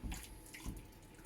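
Water poured into a larger tray to make a bain-marie water bath for bread and butter pudding, a brief close splashing pour in two short gushes, faint overall.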